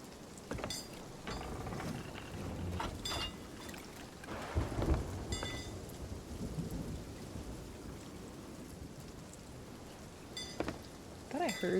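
Thunderstorm with steady rain in a game, a continuous hiss of rainfall with a deep rumble of thunder near the middle and a few sharper cracks, no voices present.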